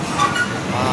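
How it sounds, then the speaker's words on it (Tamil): Steady rumbling rush of a train rolling past close by at a level crossing in Thoothukudi, India, with a continuous rattling clatter throughout. "ட்ரெயின் போட்டும் கிராஸ் ஆகும்."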